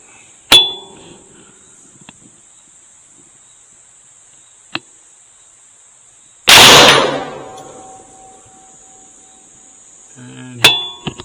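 Rifle shots ring out while a thermal unit is zeroed, with three sharp, loud reports spaced several seconds apart in quiet surroundings, one with a long ringing decay.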